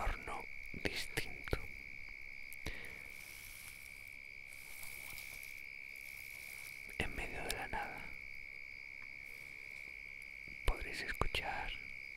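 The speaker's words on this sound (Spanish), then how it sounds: "el ruido de los grillos y de la noche" Crickets chirp at night outdoors in a steady, high, unbroken trill, with close whispering and soft rustles breaking in now and then over it.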